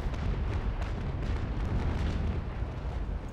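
Ship cannons in a naval battle video game fire a heavy broadside, a dense, continuous rumble of overlapping booms that stays loud and close throughout.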